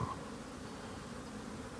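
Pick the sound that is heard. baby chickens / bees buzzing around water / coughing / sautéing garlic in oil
bees buzzing around water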